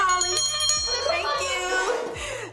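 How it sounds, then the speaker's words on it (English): A bell rings several times in quick succession, bright and close, while voices talk and laugh over it. "a bell."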